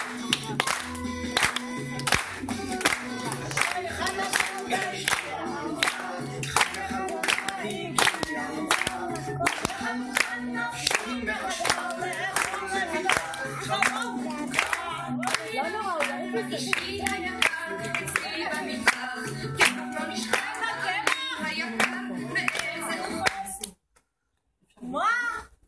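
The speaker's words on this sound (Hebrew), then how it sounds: "כפיים ילדים אפשר" Children in a kindergarten gather clap their hands in a steady, rhythmic beat, loud and continuous for over twenty seconds alongside music and voices, then stopping abruptly.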